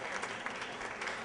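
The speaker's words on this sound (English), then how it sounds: "A little round of applause for the open wine" Brief, fairly faint clapping from an audience at a Hoboken mayoral candidates forum, a short, even burst of applause with no voices over it.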